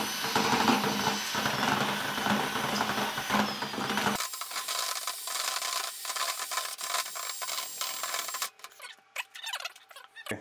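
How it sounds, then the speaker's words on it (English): Shower grout powder being mixed by hand, giving steady gritty rubbing and scraping strokes up close, with a sharp drop in level partway through as the background noise cuts out, then continuing more quietly. "Okay, so then go ahead and mix your powder together."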